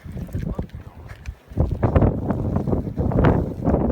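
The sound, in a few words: strong wind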